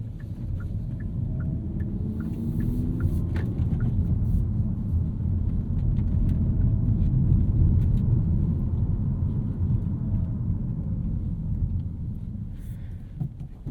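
Interior drive in a 2024 Hyundai Elantra N with a 6-speed manual: a steady low engine and road rumble fills the cabin, with faint clicking ticks early on and no talk.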